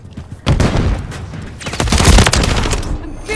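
Dense, sustained gunfire in a Call of Duty video game forms loud overlapping volleys that swell after a brief quieter opening and keep going to the end.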